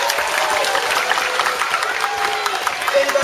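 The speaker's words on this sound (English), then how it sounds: "Let's give Charlie a round of applause." A crowd applauds at a Big Top Circus themed kids' holiday club, with dense continuous clapping that stays loud and even and has a faint cheer in the mix.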